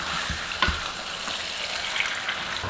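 Chicken pieces fry in a hot pan with spices, giving a soft continuous sizzle broken by a few brief stirring scrapes, close by and fairly quiet with no talking.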